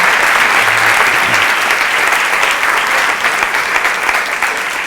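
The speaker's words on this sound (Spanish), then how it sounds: "Aplaudidme un poco," A conference audience applauds, a loud, dense and continuous wash of clapping filling the room for several seconds without talk.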